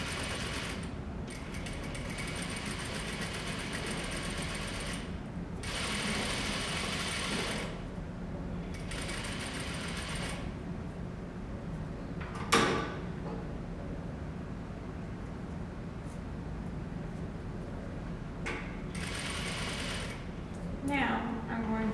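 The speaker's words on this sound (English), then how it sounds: "I'm going to sew a straight line all the way down along that guide, starting by back stitching, and then continuing all the way down" A sewing machine stitches a straight seam, starting with back stitching, in repeated bursts of mechanical whirring separated by short pauses, moderately close with faint background.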